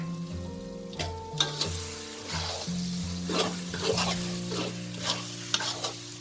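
Soybean oil hits a hot pan while making Thai roasted chili paste, giving a steady close sizzle with stirring scrapes and clinks on top, and a low tonal hum running underneath.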